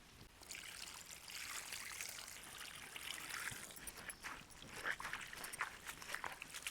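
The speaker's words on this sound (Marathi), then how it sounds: "सगळी कोथिंबीर चिरून झाली आता धुवून घेऊ" Freshly chopped tender coriander is swished and rinsed in water. The splashing and trickling is continuous and fairly soft, with brief louder sloshes near the end.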